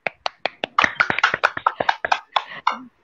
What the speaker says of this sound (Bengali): প্রত্যেকের জন্য করতালি।